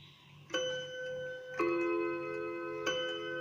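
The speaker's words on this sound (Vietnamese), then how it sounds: "nó đánh chuông đôi ha, nó điểm theo chuông đôi." A German wall clock strikes a double chime, three clear bell-like strikes spaced about a second apart, each ringing out warmly and decaying slowly in a quiet room.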